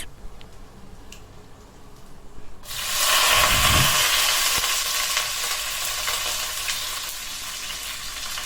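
Garlic, urad dal and curry leaves fry in a pan, starting from quiet and bursting into a loud, steady hiss and sizzle that continues close by, with a brief low rumble as they land.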